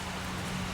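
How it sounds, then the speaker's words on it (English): Steady rain falls outside a garage, a dense, even hiss of drops on surfaces with no breaks and no voices. "It's been raining all day."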